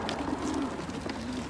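Racing pigeons coo softly in a loft, with a few low, rolling calls close by under a steady background hum.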